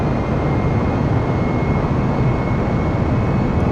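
Airplane engines run at full throttle in a flight simulator game on departure from Norwich Airport, making a loud, steady, unbroken roar that holds level for the whole stretch.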